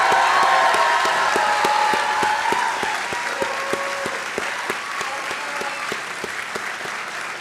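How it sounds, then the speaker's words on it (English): A large crowd at a graduation ceremony applauding steadily for several seconds, dense and loud at first and easing slightly toward the end, with a few cheers mixed in. "one final round of applause for our graduates"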